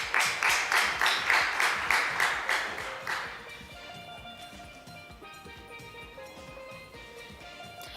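At the Tobago Day annual debate, the audience applauds the debaters in a rhythmic, pulsing clap that stays strong for about three seconds, then drops to a faint, thinning patter.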